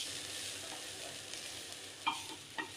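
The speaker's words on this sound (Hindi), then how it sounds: "इसी तरह ऑनियन को भी फ्राई करेंगे, थोड़ा हल्का" Onion pieces frying lightly in oil for a vegetable uttapam, a faint continuous sizzle with a couple of sharp utensil taps near the end, close by and without voices.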